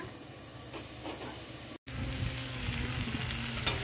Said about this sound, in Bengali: এই দেখো ঢেঁড়স আলু ভাজা ভাজা হয়ে গেছে